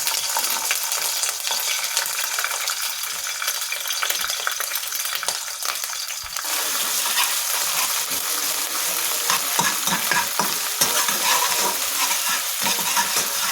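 A paste of ginger, garlic, garam masala and cumin fries in a pan, giving a steady, close sizzle that keeps going throughout, with occasional scrapes and taps of stirring.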